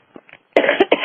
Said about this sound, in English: got a cough, excuse me